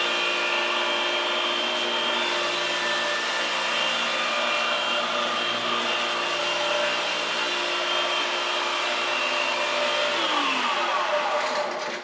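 A floor sander screen-sands an old, century-old pine floor with 180-grit screen, giving a loud, steady motor whine with a constant abrasive hiss that holds evenly throughout, close up and without talking.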